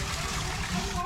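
Water runs and splashes steadily nearby in a remote village home, a continuous trickling wash. A person talks over it.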